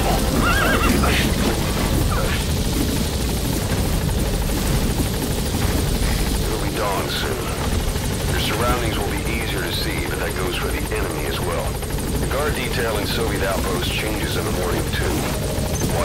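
A helicopter hovers and approaches a landing zone in Metal Gear Solid V: The Phantom Pain, its steady rotor drone running throughout, with radio voices and other game sounds layered over it.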